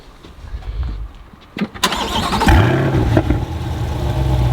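A 2020 Chevrolet Corvette C8 starts up close by: a brief whir of the starter, a loud burst of engine roar, then a deep, steady rumbling idle that keeps going.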